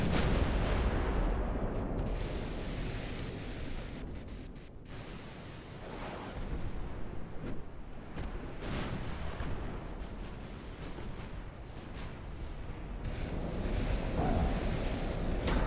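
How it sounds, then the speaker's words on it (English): Naval artillery shells firing and crashing around warships in the Ultimate Admiral: Dreadnoughts game, a continuous dense roar of booming gunfire and splashing impacts with no pauses. "Look at all the big shells coming in on the Rhineland."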